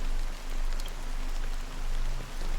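Steady rain falling in the video game Honkai: Star Rail, a continuous soft patter with gentle swells, alone with no voices and a faint low hum underneath.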